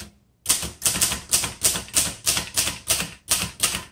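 Steady, close keystrokes from a 1950s Underwood Leader vintage manual typewriter, about ten sharp clacks in an even rhythm after a brief silence, each strike bright and percussive with a short decay, with no talking.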